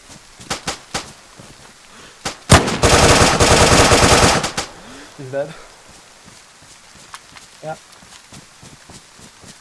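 Automatic gunfire from a machine gun in the DayZ Standalone video game: a few scattered shots, then a loud, dense two-second burst, followed by quieter footsteps. Players talk over it.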